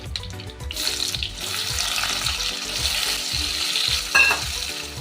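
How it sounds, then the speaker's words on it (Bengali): Pineapple pieces frying in oil produce a steady, close hiss and bubbling sizzle, with rhythmic low knocks of stirring and a brief high clink near the end, no voices. "এবার এই তেলে এই আনারসগুলো আমি একটু ভেজে নেব।"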